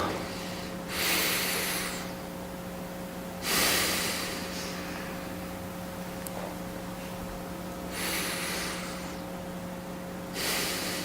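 Deep breaths during a beginner tai chi session, four slow audible breaths that rush through the nose and mouth at intervals of a few seconds, close and fairly soft, over a faint steady electrical hum.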